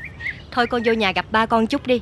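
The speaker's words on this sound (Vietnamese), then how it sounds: "Nó là con cưỡng đó con." A myna bird gives a short whistled call at the start, then a person speaks clearly and close up over faint background.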